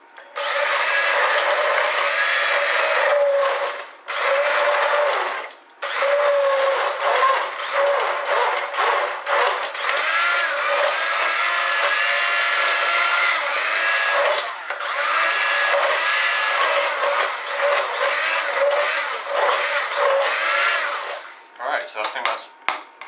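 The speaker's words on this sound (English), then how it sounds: "if you tip it all to one side, it's a lot easier to blend" A hand blender purées Scottish cock-a-leekie soup in a large, tipped pan with a loud, continuous high whir. It cuts out briefly several times before stopping, and a voice speaks between bursts.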